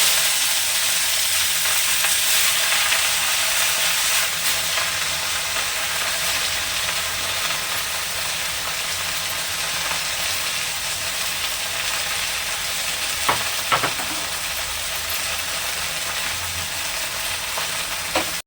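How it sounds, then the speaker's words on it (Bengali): Chopped jute leaves fry in a hot pan with tempering spices, a long steady close sizzle and hiss, with a few brief scraping stirs near the end and no voices. "কেটে রাখা কুচানো শাকগুলো দিয়ে দিচ্ছি"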